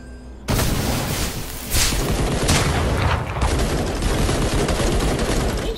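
Rapid gunfire from the video game Fortnite bursts in abruptly and continues loud and dense, as sustained volleys of shots shooting at enemies.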